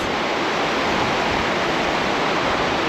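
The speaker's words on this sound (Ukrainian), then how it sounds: "Все, пошла вода по трубах вниз." Water rushing down through pipes at a broken dam on a river, a dense, steady roar that stays loud and unbroken throughout.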